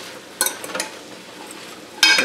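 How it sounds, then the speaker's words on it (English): Ingredients for homemade chicken soup sauté in a pan, a soft continuous sizzle broken by scraping stirring strokes, the loudest swipe near the end. "You hear it sizzling, so we're turning it, mixing that around there."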